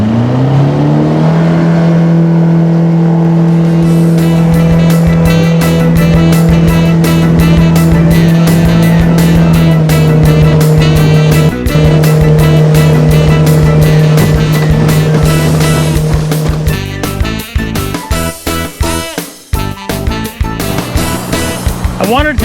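A motorboat engine runs steadily and loudly on the Cowlitz River, holding a constant drone before the pitch shifts and the throttle changes near the end, close and dominant throughout.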